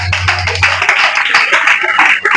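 A church congregation claps together, a bright, dense patter of many hands sustained for a couple of seconds, fairly loud, with a low hum at the start.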